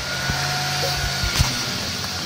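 A car engine runs under diagnosis for a cold-start problem, its speed shifting slightly over a couple of seconds, with a steady mid hum and a few low thumps; no talk.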